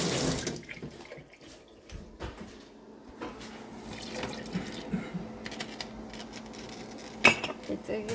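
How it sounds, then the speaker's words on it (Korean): Running tap water is poured over boiled somen noodles in a kitchen sink, a soft continuous splash with clinks of pots and utensils and brief sharper knocks near the end. "흐르는 물을 이제 부어올게요"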